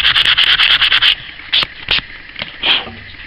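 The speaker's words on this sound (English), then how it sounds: "Bit of sandpaper to get that." Sandpaper rubbed back and forth on a small electronics project piece, a quick run of close, crisp rasping strokes followed by a few slower, separate scrapes.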